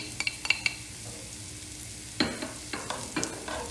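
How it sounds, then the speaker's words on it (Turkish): Onions and red peppers fry in a pan, a soft sizzle broken by sharp spatula clicks and scraping stirs, close by with no speech. "Soğanlarımla birlikte tekrar kavurmaya devam ediyorum."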